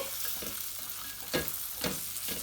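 Green chilli pickle mixture with a spice blend is stirred in a pan over low heat, giving a soft ongoing sizzle with a few scraping strokes of the spoon, close and fairly quiet.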